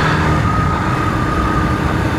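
Loud, steady wind and road roar on a motorcycle moving at about 45 km/h with the helmet visor open, recorded on a DJI Mic Mini as a dense continuous rush with a faint engine hum and no voices.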